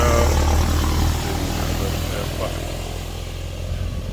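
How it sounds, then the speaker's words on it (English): A big tractor rumbles past close behind someone talking outdoors, its heavy low engine drone loudest at first and then slowly fading as it moves off, under continuous speech. "Got a big truck coming here behind me"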